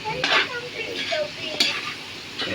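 Pancit stir-fries in a pan with a steady close sizzle, broken by scraping strokes of a utensil against the metal and a few brief clatters.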